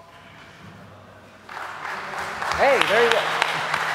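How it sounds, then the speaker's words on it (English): Applause rises from a debate audience, starting faintly and then swelling into a fuller round of clapping, while someone speaks briefly over it. "You even get applause"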